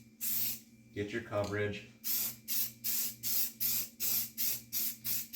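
A rattle can of spray paint hisses in rapid, regular bursts while light coats go onto a rifle. Someone talks briefly over the first sprays.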